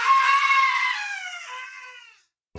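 A single long, high-pitched human scream that starts loud, slowly fades and trails off into silence before a brief noise at the end.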